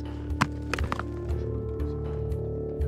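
A phone strikes a rock on a hiking trail on Madeira, giving a few sharp hard knocks and thuds spread across a couple of seconds, fairly faint and close.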